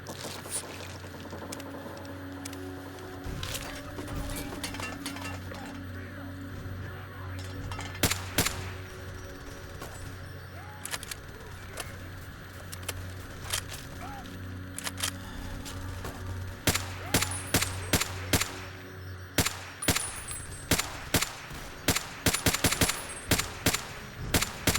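Gunfire in Fallout: Tale of Two Wastelands, modded, during a fight with an Enclave patrol: repeated sharp shots over a steady low game hum, sporadic early and then a fast dense volley of bursts near the end.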